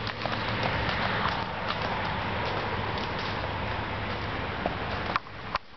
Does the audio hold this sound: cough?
no